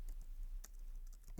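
Keystrokes on a computer keyboard at a desk, a handful of quick, light taps spread across a short stretch, close and fairly quiet with no voices.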